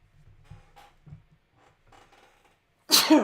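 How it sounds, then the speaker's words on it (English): A single sharp sneeze bursts out near the end, loud and close, after a stretch of quiet low murmuring. "Sudden sneeze out of nowhere then."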